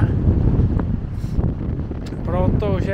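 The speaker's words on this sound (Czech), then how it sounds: "Hrozně tady v nárazek fouká vítr" Gusty wind buffets the microphone in a coastal mangrove forest in Costa Rica, a loud continuous low roar rising and falling in bursts, with a person talking over it.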